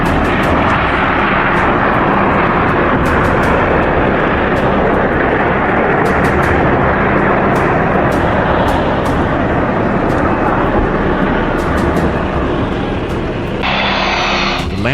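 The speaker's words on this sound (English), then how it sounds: "The plane touched down on its belly, wrapped in clouds of smoke." An airplane comes down on its belly with the landing gear up: a loud, continuous roar of engine and rushing noise fills the whole stretch, with a whining tone rising near the end.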